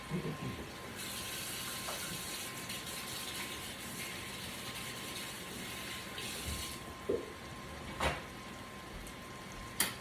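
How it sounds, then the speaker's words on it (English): Tap water runs steadily into a kitchen sink during hand washing, a continuous broadband gush lasting the whole stretch with a few small knocks and clinks, no talking over it. "I'm going to wash my hands."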